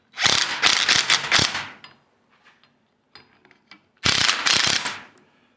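A nut is tightened on the rear axle of a 1980 Triumph TR7 in two bursts of fast mechanical clicking, one long and one shorter. Faint metallic taps and handling noises fill the quiet gap between them.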